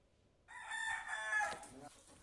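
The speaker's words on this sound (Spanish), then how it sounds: "Son los gallos de pelea" A fighting rooster crows once, loud and close, its strained call lasting about a second and a half over low background noise.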